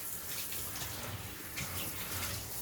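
Shower water runs steadily while a large dog is washed, a constant hiss and splash of spray close by with slight surges, no talk over it.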